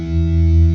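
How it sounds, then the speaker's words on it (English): High-gain distorted electric guitar tone from a Strandberg Boden Essential 6, a sustained, thick chord ringing steadily and loud through the whole short stretch with no talking. "just messing around with like I said, some higher gain tones"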